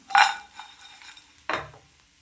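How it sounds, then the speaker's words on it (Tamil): Cashew nuts frying in a pan while being stirred, two sharp scraping sizzles close by, with a faint hiss in between and no talk. "இதை நல்லா வறுத்துக்கலாம் இதை நல்லா வறுத்தாச்சு"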